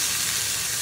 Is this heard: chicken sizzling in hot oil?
yes